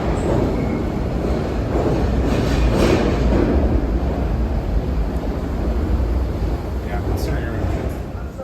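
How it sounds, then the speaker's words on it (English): Two-car train on Philadelphia's Broad-Ridge Spur, heard from inside the car: a steady, loud rumble and roar of running on the rails, swelling slightly midway, with faint squeals and talk underneath. "So now we are on a train that will eventually run on the Broad-Ridge Spur"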